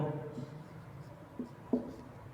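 Chalk or marker writing on a classroom board during a Hindi literature lesson on metre, heard as a few scratchy strokes and taps, the sharpest near the end, amid faint room noise.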